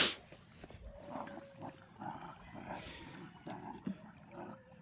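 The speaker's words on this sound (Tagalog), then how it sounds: "Naglalaro yung mga aso, guys." Dogs at play, growling and yipping in short scuffling bursts close by, with faint human voices in the background.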